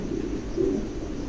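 A pair of large, newly adult pigeons coos once, low and soft, against a steady background hum.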